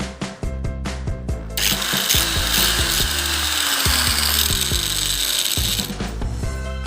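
An angle grinder cuts through a plastic jerry can, a loud continuous high-pitched whine that runs for several seconds after a few sharp knocks and handling clatters, with the motor tone sliding down as the disc loads.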